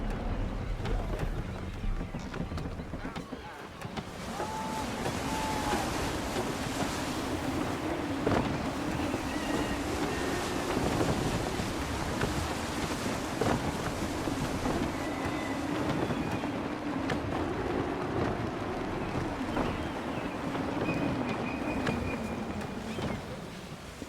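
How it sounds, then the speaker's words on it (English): Sailing ship at sea in gusty wind in the video game Assassin's Creed III: a steady, full rush of wind and water noise with a low hull-like rumble, continuous and moderately loud throughout. "Wind looks to be shifting. Stay alert, Connor. Gusty winds can be difficult to manage."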